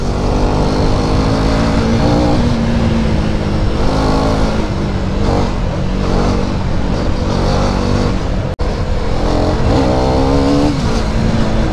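A KTM Duke 250 gen 3 motorcycle ridden at night on a non-highway road gives a loud, continuous onboard engine drone, its pitch climbing and falling as the revs rise and drop, over steady wind rush.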